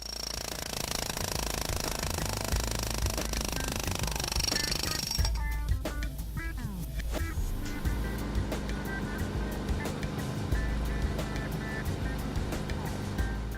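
TEX 230PE pneumatic breaker hammering and breaking material, a rapid steady pounding heard at a distance over a continuous low rumble, with the rhythm shifting partway through.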